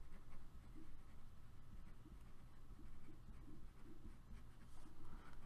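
Pen or marker writing down measurements during a math lecture, faint scratchy strokes repeating in short irregular bursts, quiet and close.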